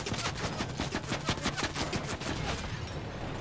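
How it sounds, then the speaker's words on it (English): A long machine gun in Fortnite fires a rapid, sustained burst of evenly spaced shots for about two and a half seconds, fairly near and loud, then cuts off abruptly. "That's the long machine gun I'm always trying to tell you."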